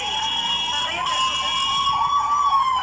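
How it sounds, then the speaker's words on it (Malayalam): An ambulance siren wails steadily close by with rising and falling tones that persist throughout, and it stays clear and prominent the whole time. "ഇതിനിടയിൽ ആംബുലൻസ് ഒക്കെ പായുന്ന ശബ്ദം കേൾക്കുന്നുണ്ട്."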